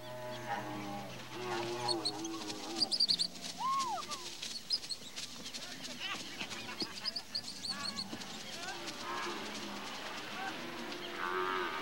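Cattle moo repeatedly across the Pantanal grassland, several drawn-out calls overlapping at moderate distance, with honking, goose-like bird calls mixed in and a faint hum beneath.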